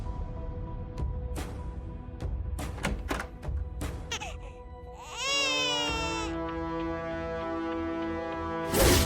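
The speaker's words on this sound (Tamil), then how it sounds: "குழந்தை அழுதுட்டு இருக்கு." An infant cries in a Tamil TV serial scene, with loud, wavering wails that rise and fall over a background of thuds and knocks and stretch for several seconds near the end.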